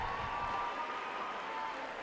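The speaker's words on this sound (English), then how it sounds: "let's give Commissioner Wright a big round of applause" The audience at the East High School Class of 2019 graduation applauds Commissioner Wright. The hall fills with a steady wash of clapping and faint crowd noise, heard from a distance.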